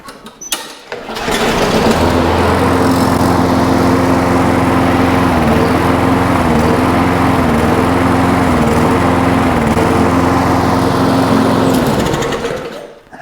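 A push lawn mower's small gas engine starts up and runs loud and close, holding a steady droning rumble for about ten seconds before dying away.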